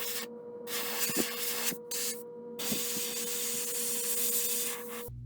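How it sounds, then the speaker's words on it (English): Pearl satin gold paint is sprayed in short bursts onto a wooden trout lure: a close hiss that stops and restarts a few times before continuing steadily, with no talking. "I'm going to spray a little bit of pearlized gold, pearl satin gold, over the back and down the sides a bit"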